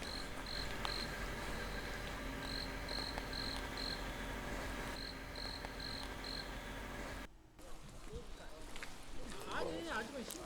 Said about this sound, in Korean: 섬돌에 찾아온 귀뚜라미가 초겨울밤 산중의 친구가 되주었다